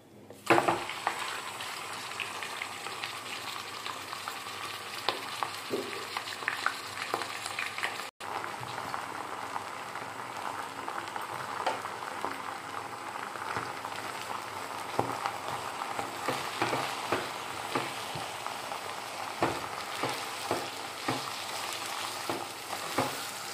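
Andhra-style mutton keema fries in a hot pan, a dense, steady sizzle with frequent scraping stirs and small crackles, loud and close, running continuously without any talk.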